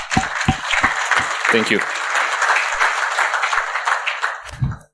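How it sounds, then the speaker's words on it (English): A conference audience at a security event claps in a steady wash after a speaker, starting with a few distinct nearby claps and a brief spoken thanks, then continuing as sustained applause that fades toward the end. "So I propose to give them a big round of applause for organizing this."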